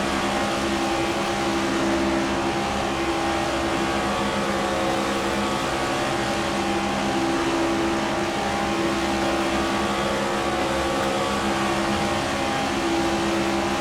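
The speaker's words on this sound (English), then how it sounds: "More cars are going down pit road." Stock cars in the NASCAR 25 video game roll down pit road, a steady loud engine drone with layered tonal harmonics that holds constant throughout, with no voices.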